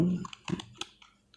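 Several quick, light clicks of typing on a computer keyboard, fairly quiet and close, spaced irregularly over a soft background.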